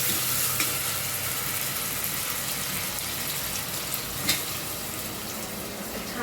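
Tomatoes sizzling in a hot masala in a pan during home cooking of a Maharashtrian vegetable curry, a steady loud frying hiss with faint stirring clinks and no talk.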